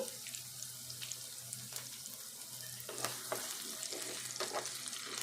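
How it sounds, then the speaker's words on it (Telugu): Sliced onion and green chillies frying in oil for a Telangana chicken curry, a steady close sizzle with crackling pops and stirring scrapes running throughout. "ఇవి కూడా వేపుకుందాము."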